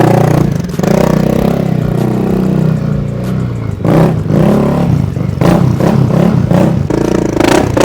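A motorcycle at a low-price bike showroom in Kerala revs loudly through its exhaust silencer, with steady engine roar broken by sharp throttle blips and rattling in the second half.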